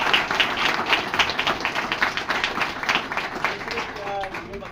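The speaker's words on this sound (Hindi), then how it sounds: "तो उनके लिए भी एक जोरदार तालियां" An audience claps in a dense, steady stream at an office anniversary gathering, the applause sitting close and continuous with some voices mixed in.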